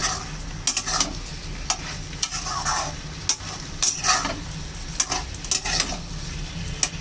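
Mixed vegetables with Malabar spinach, turmeric and red chilli sizzle in a pan while a spatula scrapes and knocks in quick, uneven strokes, close and fairly loud, with sharp metallic taps scattered throughout.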